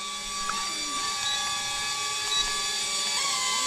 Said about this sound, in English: Well, I can't stop the motor.